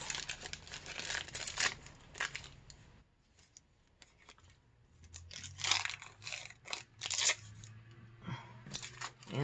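A paper bag is torn by hand into random pieces for collage ephemera, with bursts of ripping and crinkling separated by quiet pauses, close and fairly soft.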